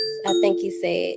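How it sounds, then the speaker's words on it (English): Front doorbell chiming a ding-dong tone that rings out clearly over someone talking. "Someone is at the front door. That's my doorbell."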